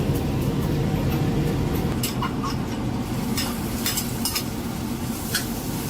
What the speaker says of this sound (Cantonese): 落油爆香啲薑片同埋蒜片